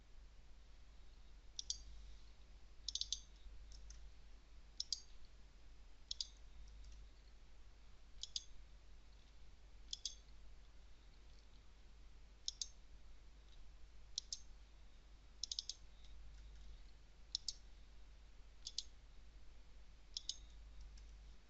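Faint, sparse computer mouse clicks or key taps arrive one or two at a time at irregular intervals over a low steady hum, with no talking.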